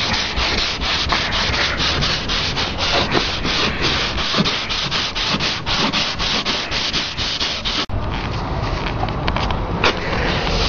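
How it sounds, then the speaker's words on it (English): Steady back-and-forth sanding scrapes against a 1996 Jeep Grand Cherokee body panel being prepped for paint, a close, continuous rubbing rasp with dense repeated strokes and a brief break near the end. "You want to sand it until it all turns light and the edges are feathered out."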